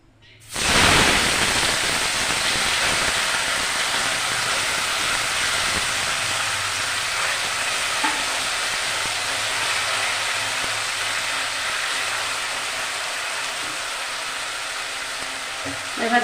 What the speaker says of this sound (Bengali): দেখো, তেলটা গরম হয়ে গেছে, এবার মাছগুলো দিয়ে দেব।